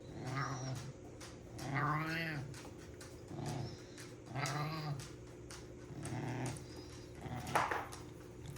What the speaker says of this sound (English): enjoy my cat that sounds like a duck or a cranky old lady smoker